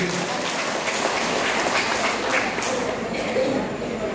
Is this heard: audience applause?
yes